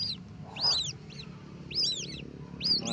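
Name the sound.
chick of a kiyaw or tikling bird chirping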